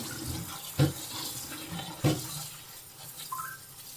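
Tap water runs steadily into a sink as saag greens are washed, with a couple of splashy knocks of the leaves being handled and no talking.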